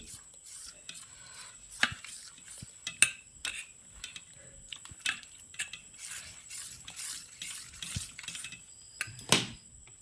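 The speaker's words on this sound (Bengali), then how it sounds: "এবার আমি একটা চামচ দিয়ে ঘুটে নেব" A spoon mixing Maggi pakora batter in a bowl gives intermittent scraping and rubbing with scattered metallic clinks, close and fairly quiet, with short pauses between strokes.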